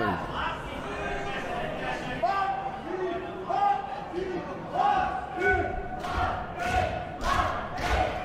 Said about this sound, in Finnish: No niin, saadaan yleisö ääntä.